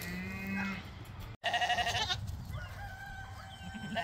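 Goats bleat repeatedly on a homestead with a carport goat barn, one animal growing aggressive; several wavering calls, fairly close, with a short gap in the middle and farm background behind.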